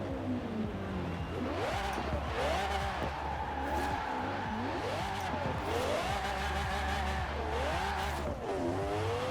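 Supercar drifting in the racing game Forza Horizon 4: a revving engine rises and falls in waves while tires squeal continuously, loud and close, with no talking.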